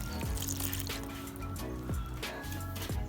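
Water is added bit by bit to flour and salt in a mixing bowl while making samosa dough, heard as a few short trickling pours over steady background hum, with no one speaking.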